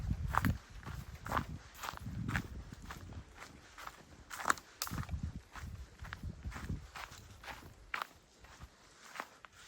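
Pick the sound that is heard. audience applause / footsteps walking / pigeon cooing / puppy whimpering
footsteps walking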